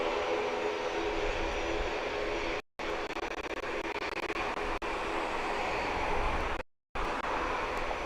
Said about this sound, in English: we look at the departure of American Flight 1480 to Miami, 737-800